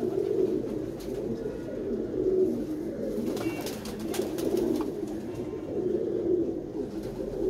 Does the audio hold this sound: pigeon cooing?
yes